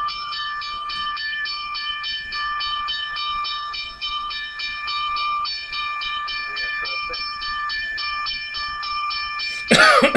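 A train horn blares in a long sustained multi-tone blast that runs through nearly the whole stretch, loud and close, ending in a sharp noisy burst.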